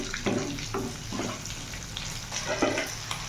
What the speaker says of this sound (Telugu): పచ్చిమిరపకాయలు వేసుకుని బాగా ఫ్రై చేసుకోండి.